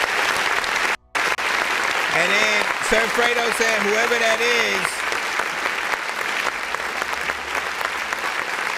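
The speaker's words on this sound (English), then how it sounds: "let's give you the clap" Canned applause effect on an independent-artist music review show, a steady broadband clapping wash lasting several seconds, heard beneath the host's voice and a brief musical tone.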